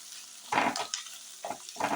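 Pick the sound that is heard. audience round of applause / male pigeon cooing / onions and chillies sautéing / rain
onions and chillies sautéing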